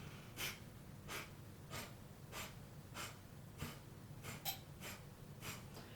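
Kapalabhati yoga breathing: about ten sharp, forceful nasal exhalations in a quick, regular rhythm, close and fairly soft, each a short puff of air with quiet gaps between.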